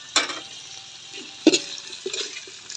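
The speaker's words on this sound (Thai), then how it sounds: "คนให้เข้ากัน" Thai chili-ginger stir-fry with eel being stirred in a pan with kaffir lime leaves and fish sauce: a few scraping, clattering stirs over a soft sizzle, close by and without talking.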